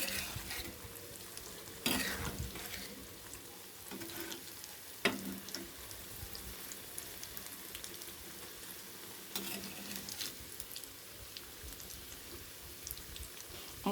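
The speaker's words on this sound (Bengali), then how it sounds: "এবার আমি এগুলোকে তেলে ছেড়ে দেবো। আমার সব কটাই তৈরি হয়ে গেছে, আমি তেলে দিয়ে দিয়েছি। এবার একটু ভেজে নেব এগুলোকে।" Quiet, continuous sizzle of boiled eggs frying in oil for an egg masala curry, broken by several sharp clicks and knocks of a utensil turning them in the pan.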